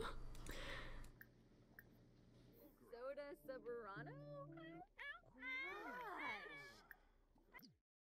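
Cats in The Sims 4 give a run of close, drawn-out meows and caterwauling calls, several overlapping in quick succession after an opening stretch of background game sound.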